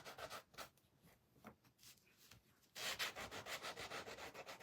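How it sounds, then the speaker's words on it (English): Rhythmic scraping strokes of sandpaper on small wooden snowman kit pieces, quiet and close, getting faster and louder in the second half. "While I'm sanding here."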